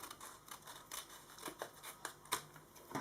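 Scissors snipping paper while cutting out an envelope, a series of quiet, crisp snips spaced irregularly, close and faint.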